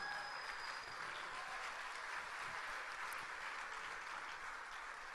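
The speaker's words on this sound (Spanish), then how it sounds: "Si vamos a aplaudir, aplaudamos al Señor por eso" A church congregation applauds during a sermon, a steady wash of clapping at a modest, fairly distant level lasting the whole moment without talk.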